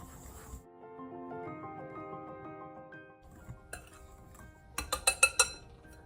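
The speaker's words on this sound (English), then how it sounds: "Now let's give everything a whisk." Flour and granulated sugar are whisked in a bowl for a gluten-free cinnamon quick bread: after soft background music, a quick run of bright, rhythmic metallic clinks sounds up close.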